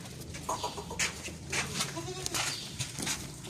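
Goats on a farm, including breeder bucks, bleat in short, repeated calls at close to middle distance, with other farm animal and bird noise mixed in around them.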